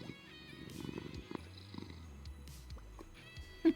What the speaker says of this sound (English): I do like the sound of that